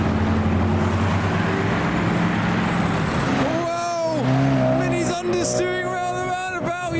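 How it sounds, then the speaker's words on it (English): A late C1 Corvette with a V8 engine and side pipes rumbles past up close at a car show, deep and steady, then shifts gears with rising, rasping revs as it pulls away around a roundabout. "You got the late C1 Corvette with its V8 sounding phenomenal."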